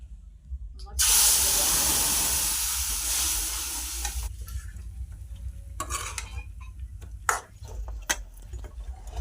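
Potatoes for bhungla bateta frying in a pan, a loud steady sizzle and hiss that fades after a few seconds into softer stirring scrapes and intermittent crackle.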